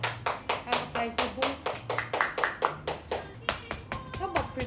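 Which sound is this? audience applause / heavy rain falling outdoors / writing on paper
audience applause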